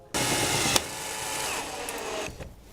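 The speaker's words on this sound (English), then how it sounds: "The self-tapping screws will go right through the metal." A power driver whirs steadily for about two seconds as a self-tapping screw bites into metal, with a sharp click partway through before winding down.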